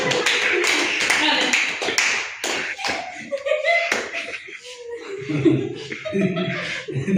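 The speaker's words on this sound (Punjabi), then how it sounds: "ਤਾੜੀਆਂ ਹੀ ਮਾਰੋ" Guests at a wedding anniversary gathering clap and laugh in scattered bursts, with chatter mixed in, close by and lively.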